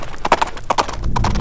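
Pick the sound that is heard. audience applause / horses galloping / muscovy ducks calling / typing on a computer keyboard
horses galloping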